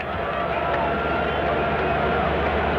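A crowd fills Foxborough stadium for a 1993 Patriots preseason exhibition football game against the Kansas City Chiefs, producing a steady, dense roar of cheering and babble that holds at an even level throughout.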